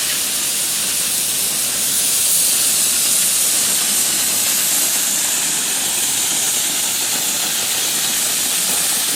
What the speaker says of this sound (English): we'll turn the air on. And those are blowing out quite nicely